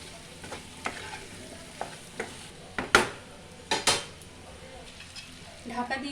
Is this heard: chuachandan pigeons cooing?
no